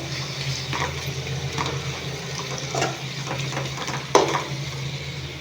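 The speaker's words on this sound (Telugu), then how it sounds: "మంచిగా కలుపుకోవాలి చూసారా మంచిగా వేగాలి మన దొండకాయలు" Ivy gourds frying with crushed garlic in a pan and being stirred, a steady close sizzle broken by occasional scraping strokes and one sharper clink, no voices.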